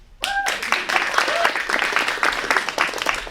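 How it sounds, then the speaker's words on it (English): A comedy presentation audience breaks into brisk clapping after a sudden onset, a crisp burst of many hands with a few vocal whoops mixed in, sustained and fairly close. "Clap if you think I'm a great friend."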